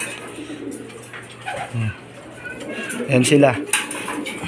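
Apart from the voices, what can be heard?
pigeons cooing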